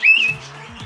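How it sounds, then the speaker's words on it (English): A bird gives a short, bright whistled chirp in a park aviary, followed by fainter lower calls, all within under a second. "But we've got some birds here, and this is an aviary"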